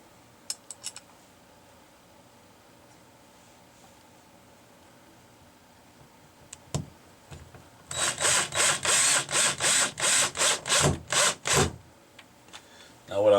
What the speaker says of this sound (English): So I put the top screw in first.